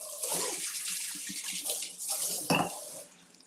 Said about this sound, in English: I've got the regular almond milk here. I'll pour 2 glasses.